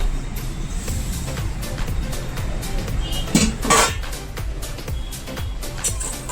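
Steel plate lid and pot handled over a steaming pot while cluster beans cook, close metallic clinks and knocks in an irregular series over a low background rumble, no voices.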